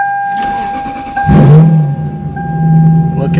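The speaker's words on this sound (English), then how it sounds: "I haven't driven this car in a while, so we'll see if it even starts" A Lexus SC430 car engine starting up after sitting unused, a brief cranking burst followed by a steady low idle hum, close and loud, with electronic chime tones in the background.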